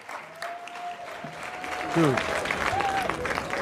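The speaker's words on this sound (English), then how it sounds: "We got people applauding." An audience applauds at a close of a Senate hearing, a steady wash of clapping running under nearby conversational voices that talk over it throughout.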